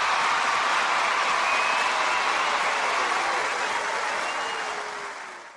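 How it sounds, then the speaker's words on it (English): A steady roar of crowd applause, dense and even throughout with no distinct claps standing out, fading slightly at the very end. "Let's give a round of applause."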